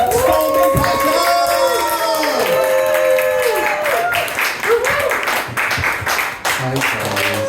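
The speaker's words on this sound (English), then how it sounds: "I want you to clap like you've just found out that Donald Trump has died." A comedy club audience clapping and cheering in a loud burst that swells, then thins out, with voices and shouts mixed in and a speaker's voice near the end.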